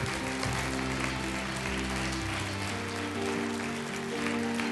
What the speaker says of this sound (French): on les applaudit ensemble